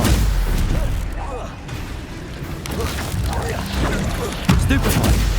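Protego and Stupefy spells cast in Hogwarts Legacy, heard as a dense run of booming magical blasts and crackling impacts over a busy combat soundscape, with a sharper burst near the end.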